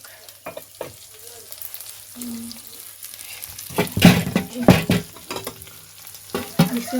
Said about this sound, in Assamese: ভাজি হৈ গ'ল এতিয়া উলিয়াই লওঁ